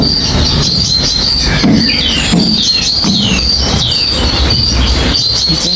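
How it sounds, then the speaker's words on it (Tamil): Recorded sparrow chirping plays from a speaker box at the Grand Aquarium in Hurghada: repeated high chirps over a constant, loud, hissing background. "நீங்கள் நம்பிடாதீங்க இதெல்லாம் குருவி கத்துதுன்னு நான் அப்படித்தான் நம்பினேன்னா அதெல்லாம் இல்லை ரெக்கார்டிங் வந்து பொக்ஸ் இருக்குது"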